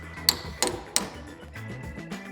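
Three sharp, ringing metallic strikes land about a third of a second apart, like a hammer hitting metal, followed by quieter clatter.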